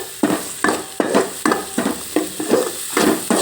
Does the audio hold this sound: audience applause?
no